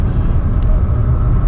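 A Renault Zoe at wide open throttle on the Nürburgring fills the cabin with a steady, loud roar of road and wind noise and a low electric drive hum, continuous and unbroken.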